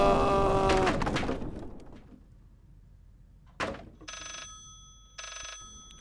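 An old telephone rings in the Layers of Fear game on PS4. Two short, trilling bursts sound after a loud clatter fades into near silence.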